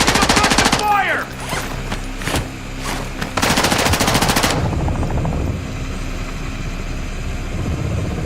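Machine gun fire in Call of Duty Warzone 2, loud rapid bursts of automatic shots in quick succession, mixed with engine or helicopter rumble and brief game radio voice.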